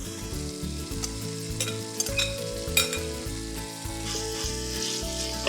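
Onions and spices with a splash of stock cook in a pan for a chunky chilli, a steady close sizzle with stirring scrapes over a continuous low hum of background music.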